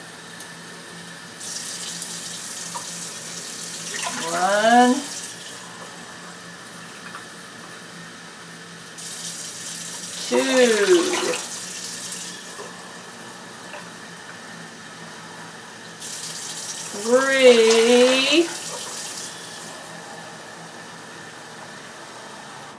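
Tap water gushes into cups for a pot of chili in three separate bursts, each a few seconds long, while a voice counts between the fills.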